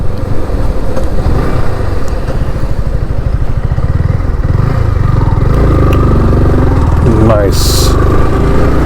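A 2023 Yamaha R15 M v4 motorcycle revs loudly and runs up through its gears using the quickshifter. The engine note climbs in pitch, with quick breaks between shifts, and wind noise rushes over the sound throughout.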